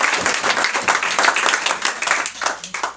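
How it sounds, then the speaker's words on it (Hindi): A crowd at an Alliance Clubs installation ceremony claps for new members, producing a short burst of lively, overlapping applause with no pause. "हमारे नए मेंबर के लिए सबसे पहले तो तालियां।"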